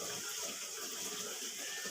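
Water rushes steadily into a washing machine as it fills, a continuous even hiss that is fairly soft and close, with no talking over it.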